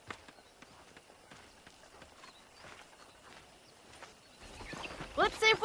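Horse hooves thud in a loose, uneven galloping rhythm in the Western video game Red Dead Redemption, moderately close, under game ambience, with a sharper burst of activity near the end.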